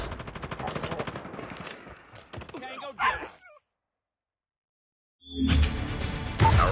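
An automated sentry gun in Call of Duty: Mobile fires rapid bursts of gunfire, loud and close. A synthetic game voice speaks over part of it, then a short silence falls before another dense burst of shooting.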